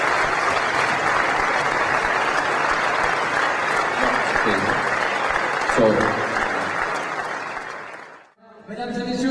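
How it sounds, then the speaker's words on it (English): A large audience at an off-road motorsport awards ceremony in Monte Carlo claps in a loud, sustained burst of applause that fades out near the end, followed by a brief spoken word. "A very big applause for Jan."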